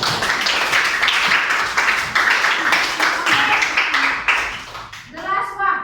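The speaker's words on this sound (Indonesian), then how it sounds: "Tepuk tangan dulu nak." Children clapping together in a classroom, a loud run of rhythmic, fairly even claps that stops near the end, followed by a voice.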